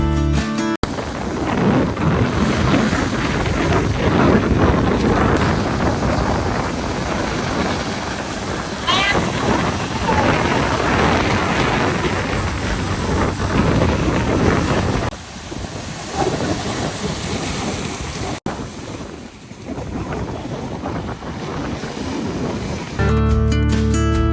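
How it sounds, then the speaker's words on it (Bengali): Ocean surf and strong wind at Patenga sea beach roar steadily and loudly, with the wind buffeting the microphone and waves breaking continuously, briefly easing near the end. "সাগরের অতিরিক্ত ঢেউর কারণে আমরা যেখানে নিচে নামতে পারতেছি না"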